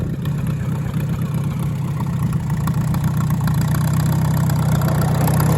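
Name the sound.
Farmall tractor engine running in gear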